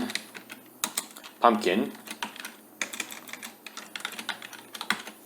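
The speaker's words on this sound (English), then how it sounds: "if I type in Halloween" Keyword entry on a computer keyboard, a quick run of crisp clicky keystrokes in uneven bursts, close and clear, heard under a single spoken word.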